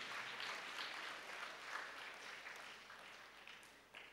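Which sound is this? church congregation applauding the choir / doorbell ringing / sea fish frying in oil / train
church congregation applauding the choir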